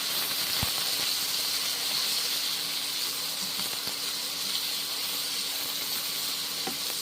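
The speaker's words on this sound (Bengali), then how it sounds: "গুঁড়ো মশলাটা এখন দিলাম, মিক্স মশলা দিলাম, ভেজে নিচ্ছি সব একসঙ্গে" Ground mixed spices sizzle in a hot pan with flat beans and tomato, a steady, even hiss that runs unbroken throughout, with a few faint clicks and no talking.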